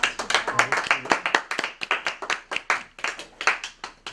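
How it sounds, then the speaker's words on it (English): Audience at a library author talk claps for the author, a fairly close, lively run of individual hand claps at a quick uneven rhythm, sustained for several seconds with no voices over it. "Let's have a nice round of applause for Paul."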